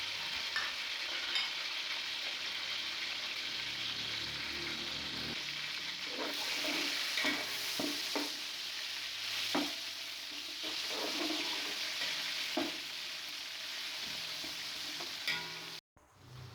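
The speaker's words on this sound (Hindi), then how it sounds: "4 कटे हुए टमाटर, 3 चम्मच अदरक लहसुन पेस्ट और 4 हरी मिर्चें साबुत इसमें ऐड कर देंगे और इसे अच्छे से भून लेंगे।" Chopped tomatoes, ginger garlic paste and whole green chillies frying in a pan of oil for a chicken yakhni pulao masala, a steady close sizzle with occasional scraping and stirring clatter, no talk.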